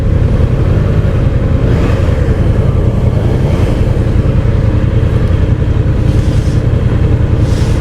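A Triumph Trident 660 motorcycle engine with ride-by-wire throttle idles and revs loudly up close, a steady dense engine roar with slight swells throughout and no speech.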